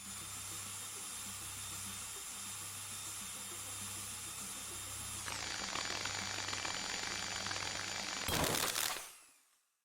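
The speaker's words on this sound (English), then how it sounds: "When ready, trigger the sync master as normal to begin drill insertion." A drill runs in the Stories Untold lab, a steady mechanical whine with a constant low hum that rises in pitch and grows rougher partway through, then ends in a loud burst before cutting off abruptly.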